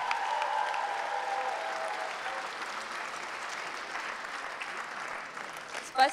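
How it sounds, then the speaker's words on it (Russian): Audience at a KVN junior league gala concert in Ufa applauds steadily throughout, a dense wash of clapping from a sizable crowd that fades slightly and ends with a louder burst. "Давайте громко поаплодируем,"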